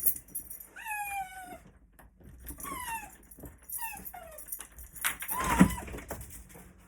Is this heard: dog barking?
yes